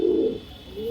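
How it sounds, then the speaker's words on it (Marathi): A pigeon coos at close range, a low rounded call that swells and fades within a second and then starts again, heard alone with no talk. "एकदम सुपर क्वालिटीचे कबूतर आहेत हे पण दोन्ही"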